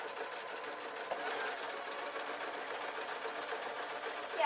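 Domestic sewing machine running a zigzag stitch along a trouser lining, a soft, steady whirring with rapid rhythmic needle clatter, close up and continuous, rising slightly at the very end.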